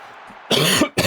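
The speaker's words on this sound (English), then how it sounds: "I need to cough." A single throaty cough bursts out loudly and close, followed by a second short cough, with no talking.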